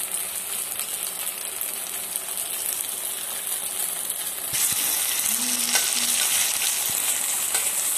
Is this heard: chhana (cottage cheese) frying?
yes